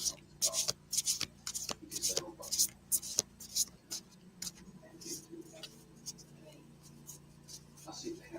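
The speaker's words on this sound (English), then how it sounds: "I'm shuffling. Hang on." Crisp riffling bursts of cards being shuffled close up for a divination reading, several quick rapid shuffles followed by softer flicks and taps, with faint voices in the background.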